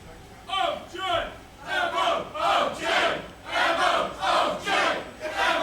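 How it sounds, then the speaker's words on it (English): Wrestling crowd at a live event chanting in a loud rhythmic unison, repeated shouted bursts about every half second with a steady roar between them. "Crowd resolutely behind the OJMO from the get-go."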